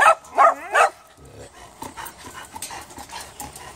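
Dogs in a big dog lot give three sharp, close barks in quick succession, followed by softer panting and faint whimpers.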